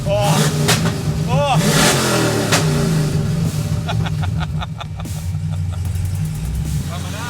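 A car engine roars at high revs at full throttle with the flappers open, loud and close, with shouted voices over it and a chirping tone near the end.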